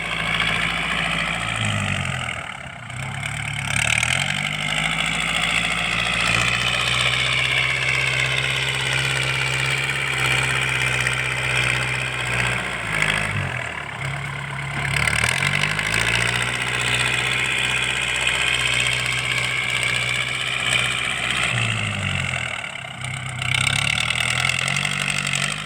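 An L50 tractor engine without a turbo, fitted with a loud exhaust, runs close and steady, its deep throbbing note dipping and rising with throttle changes every several seconds, with no voices.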